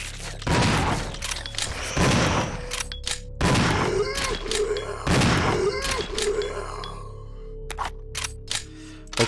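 Resident Evil Zero gunshots: several heavy, booming shots spaced a second or two apart, each with a ringing tail and echo, over a low droning background with occasional talk.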